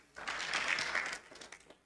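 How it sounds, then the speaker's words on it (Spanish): Short burst of church congregation applause, a soft, fairly distant wash of clapping that swells and tapers within a couple of seconds. "Un fuerte aplauso."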